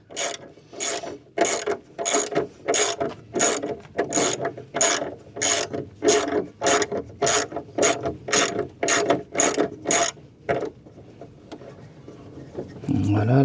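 A wrench ratchets quickly to tighten anti-loosening bolts on a Dacia Spring frunk, giving about fifteen sharp, evenly spaced clicking strokes up close, then stops. Someone speaks briefly afterward.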